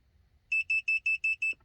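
Six short, evenly spaced electronic beeps from an Autel MaxiSys MK808 diagnostic scan tool, clear and close, with a quiet background between them.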